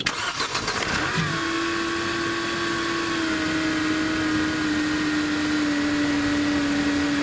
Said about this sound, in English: I'll get my beautiful assistant to start the engine, and you'll see it